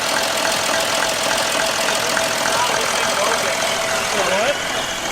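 A 1970s diesel tractor engine converted into a Ford F250, running at a steady knocking idle with a constant mechanical clatter; a brief rising whine or squeal appears near the end.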